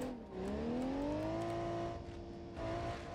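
Car engine in a BeamNG.drive game revving steadily in first gear while trying to pull out of a mud bog, a rising then sustained tone, loud and close, no talk.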